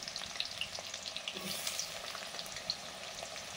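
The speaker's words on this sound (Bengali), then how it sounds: "মানে পেঁয়াজগুলো ভাজছি।" Sliced onions fry for biryani birista in a steady, crackling sizzle, with occasional soft stirring clatter in the background of the close, continuous frying hiss.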